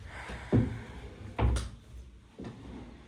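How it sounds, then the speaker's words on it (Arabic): A door in a home is pushed shut, giving several dull knocks and thuds in quick succession, close by with a quiet room behind them. "اقفل بس الباب كده شويه."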